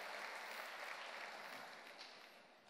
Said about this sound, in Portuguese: Samuel, vamos aplaudir de novo a atitude de Samuel aí, irmãos.